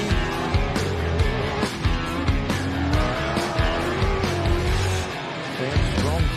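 A race car's engine runs hard at the start line of the Big Desert 480 desert race in 2024, a loud, steady, rumbling drone with shifting pitch, while a commentator talks over it.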